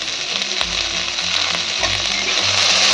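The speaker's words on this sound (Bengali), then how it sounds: "পেঁয়াজটাও আমি লাল করে ভেজে নেব।" Chopped onion with ginger sizzles and fries steadily in hot oil for a chicken skin and eggplant dish, a loud continuous crackle with faint stirring scrapes and no talk.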